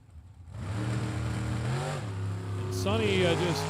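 A drag racing dragster launches and accelerates hard down the strip, its engine roaring and rising in pitch, loud and sustained under crowd noise.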